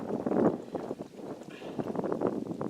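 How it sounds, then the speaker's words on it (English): Wind buffeting a microphone outdoors during Dutch oven cooking, a steady rumbling roar with gusty surges throughout, loud and close. "Oh, the wind's blowing it."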